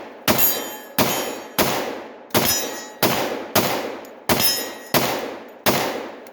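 A factory Glock 10mm pistol fires in rapid succession, nine sharp, loud cracks at an even, quick rhythm, each ringing briefly before the next, with no talking.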